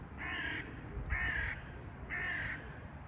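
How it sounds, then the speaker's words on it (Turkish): A crow caws three times in evenly spaced, harsh calls, loud and fairly close, outdoors among rooftop pigeon lofts where tumbler pigeons are flown, with no talking. "Bakın kargaya."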